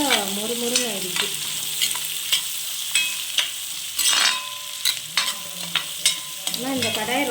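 Garlic, shallots and curry leaves sizzle steadily in oil in a kadai, with repeated scraping stirring strokes over the continuous frying hiss.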